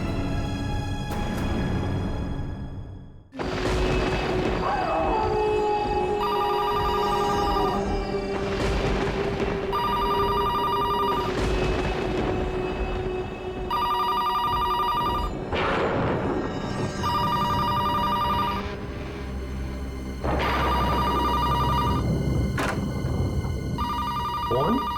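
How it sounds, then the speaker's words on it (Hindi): A telephone bell rings late at night in a Mumbai crime drama scene, sounding in repeated bursts with short pauses between them over a dense background score and some low rumbling. "फोन इतनी रात को? दिन में तो कभी फोन की घंटी बजती नहीं।"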